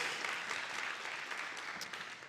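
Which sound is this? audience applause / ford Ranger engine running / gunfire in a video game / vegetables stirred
audience applause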